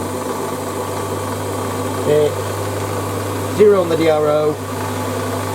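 A Warco WM180 metal lathe runs as a steady, even mechanical hum through the whole stretch, with a brief tool-cutting scrape near the end, while someone talks over it.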